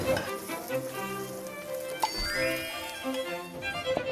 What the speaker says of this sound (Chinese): 咖啡炒進去啊！